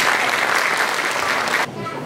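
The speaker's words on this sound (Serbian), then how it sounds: "Molim vas jedan aplauz." Audience applause at a Statehood Day ceremony in Janja, a dense burst of clapping from a crowd that holds steady and then cuts off sharply near the end.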